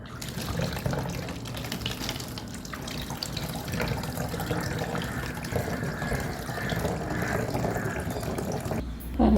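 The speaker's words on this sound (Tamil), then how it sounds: "பாட்டிலில் ஊற்றிக்கலாம்" Homemade rose bio-enzyme liquid poured into a two-litre bottle, a continuous trickling, gurgling stream that runs close and steady for several seconds before ending with a brief knock.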